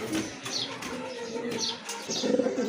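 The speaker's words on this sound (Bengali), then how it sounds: "আরেক জোড়া কবুতর দেখতে পাচ্ছেন লাহরি কবুতর" Lahori pigeons close by give low, rolling coos mixed with bursts of wing flapping and light rustling, fairly steady throughout.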